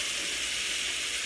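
Mushrooms and onions frying in butter and extra virgin olive oil, a steady close sizzling hiss with no pauses, fairly soft and alone.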